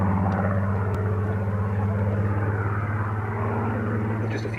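Hurricane and Spitfire propeller fighters flying over Cambridgeshire, a loud continuous droning engine hum with steady low tones, sustained without pause.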